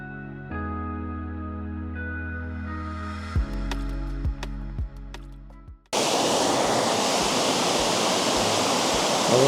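Rouken Glen waterfall and river in Glasgow rush loudly and steadily, a dense broadband roar that starts partway through after a quieter, tonal stretch.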